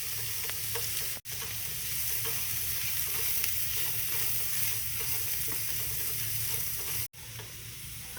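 Carrots, chili flakes, black pepper and salt tempering in hot oil for white sauce pasta, a steady close sizzle and crackle running throughout, broken by two brief moments of silence; no voices.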